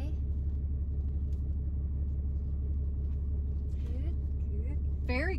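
A large pickup truck's engine idles in a low steady rumble while reversing slowly, close and constant, with people talking inside the cab over it.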